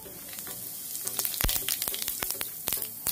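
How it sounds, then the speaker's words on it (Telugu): Half a tablespoon of cumin seeds dropped into well-heated oil for a prawn fry, a close, crackling sizzle that swells midway with sharp popping bursts and continues steadily, no talking. "ఆయిల్ బాగా హీట్ ఎక్కింది. ఇప్పుడు దీంట్లో ఒక హాఫ్ టేబుల్ స్పూన్ జీలకర్ర వేసుకుందాం."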